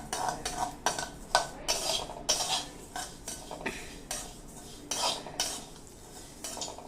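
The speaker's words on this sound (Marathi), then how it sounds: "हे जिरे वगैरे छान असे भाजून घ्यायचे मंद आचेवरती." Cumin seeds dry roasting in a pan over a low flame, with a steady run of metal spoon scrapes and clinks against the pan, close and moderately loud, with no speech.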